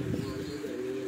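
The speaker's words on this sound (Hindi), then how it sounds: "जितने भी आपने कबूतर दिखाए ना उस्ताद मुबशर साहब वाले" Pigeons on a rooftop give a soft, low, continuous cooing that sits close and fairly quiet throughout the short moment.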